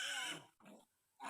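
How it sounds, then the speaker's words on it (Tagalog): A sow and her piglets on a family farm, heard as a close, loud burst of grunting and squealing, then a shorter softer grunt, a pause, and another loud squeal at the end. "ang inahing baboy at mga biik"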